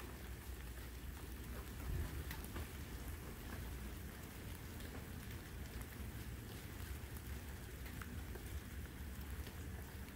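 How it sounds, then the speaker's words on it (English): Rain falls steadily outdoors, a dense, even patter with a faint low rumble underneath, continuous and unbroken for the whole stretch with no voices. "It's raining out here on me."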